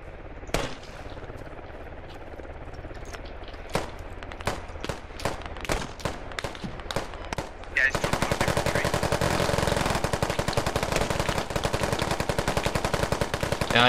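Gunfire in the video game Squad: sparse single shots ring out at first, then a continuous rapid automatic burst takes over and runs loud and unbroken to the end.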